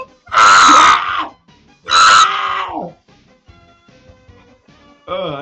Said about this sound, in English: Oh, I need to stop screaming.